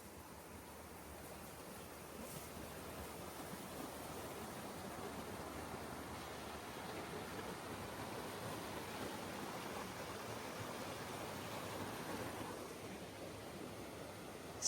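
Jacob's Brook on a hiking trail flows with a steady, broad rushing wash of water that stays even throughout, with no voices.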